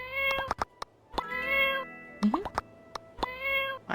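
A cat in the My Time at Portia video game gives a run of short, clear meows, about eight in four seconds, close and fairly loud over a quiet background, with no talk.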